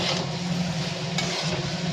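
Potato poppy seed curry with ridge gourd is stirred in a pan, a continuous, close scraping and soft sizzle with a slight dip in the middle.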